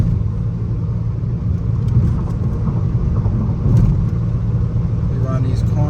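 A Dodge Challenger SXT on the road, heard from inside the cabin as a loud, close, steady low rumble of engine and road noise that holds at an even level throughout.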